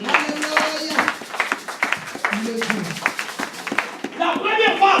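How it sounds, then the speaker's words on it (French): A church congregation in Switzerland applauds, with scattered claps running through a steady murmur of voices. The clapping stays at moderate strength and is partly mixed with talking, and sung or musical tones rise near the end. "Acclamons d'abord à Pierre."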